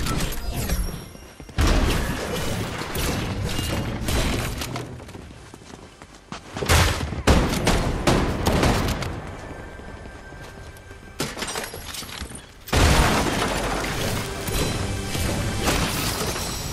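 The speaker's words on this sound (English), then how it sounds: "NPCs shooting me." Dense bursts of NPC gunfire from the video game Fortnite during a ranked squads match, loud and continuous, with sharp crackling volleys and a few brief pauses between heavy clusters of shots.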